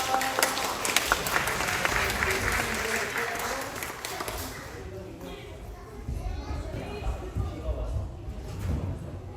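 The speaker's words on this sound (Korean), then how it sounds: "저희 아이들 나갈 때 큰 박수." A congregation applauds during a Sunday church service as the children leave, a broad sustained clapping that fills the room for several seconds before thinning out, with voices and children's chatter mixed in.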